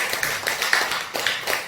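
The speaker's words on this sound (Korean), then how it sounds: "다 같이 박수." A church congregation claps hands together after a prayer, a fairly dense and even patter of claps with a few sharper slaps standing out, heard alone without speech.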